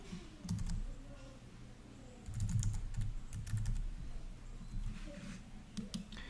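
Typing on a computer keyboard to enter a street address, bursts of quick close key clicks with short pauses between groups.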